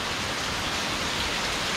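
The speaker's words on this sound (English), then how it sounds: "Please send some of that rain to SoCal." Rain falling in Thailand in Rayong province, a steady, even hiss of heavy rainfall close by with no voices.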